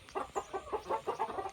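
Chickens on a homestead cluck in a quick, regular series of short calls, about eight in a row, close by and clear over a faint background with no talking.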